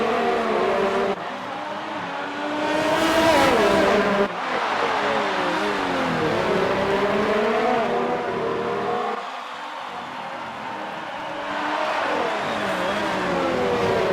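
Race cars scream past on the Singapore street circuit, engines rising and falling as several cars complete a lap one after another, loud and close with no talk over them.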